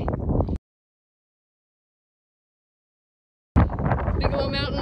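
Wind buffets the microphone on a mountain summit at night, rough low roaring gusts at the start and again after a silent gap, with a voice talking over it.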